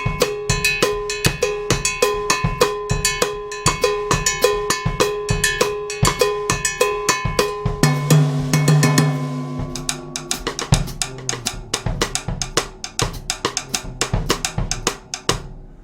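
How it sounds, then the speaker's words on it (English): A drum kit plays Afro-Cuban mambo, with a small tom and a cowbell hitting a break. A steady, fast, ringing cowbell pattern runs over drums, a short tom figure comes in the middle, and then the groove resumes, loud and close. "play the small tom and the cowbell on the break"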